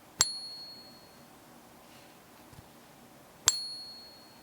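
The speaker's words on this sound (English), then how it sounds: "so you can hear what the ping of a silver round should sound like" A silver round struck on a table gives two bright, ringing pings a few seconds apart, each sharp attack fading into a sustained high metallic tone in a quiet room.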